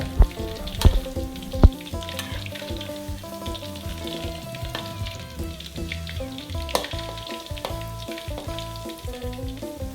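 Steady crackling sizzle of chicken wing tips deep-frying in hot oil, with a few louder pops and clinks near the start; no talking.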